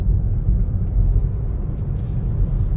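Manual-gearbox car engine driving onto a French motorway around 70 km/h in fourth gear, a steady low rumble heard from inside the cabin with faint rustles near the end, no talk.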